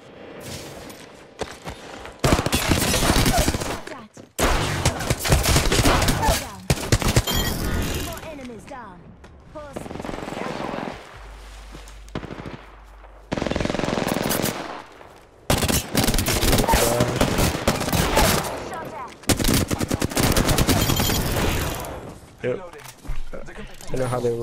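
Gunfire in the video game Apex Legends, loud bursts of rapid automatic shots separated by short pauses, with several players talking over and between the shooting.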